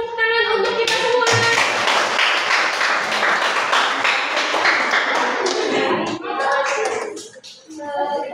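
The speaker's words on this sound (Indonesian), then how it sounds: "Tepuk tangan untuk kita semua." Classroom applause from a group of students at the end of a school lesson, dense and sustained for most of the span, fading out near the end with some voices mixed in.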